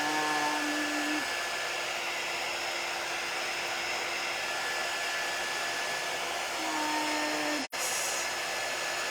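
A heat tool blows steadily over a handmade greeting card, a constant airy roar close by, with a brief click-off dip near the end before it resumes.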